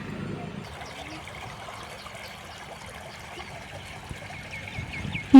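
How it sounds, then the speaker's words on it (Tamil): Water trickles steadily through a channel fed from a lake, a faint continuous flow with soft splashes and distant birds, ending in a sudden loud knock. "இது ஏரியிலேருந்து வர தண்ணி காவா."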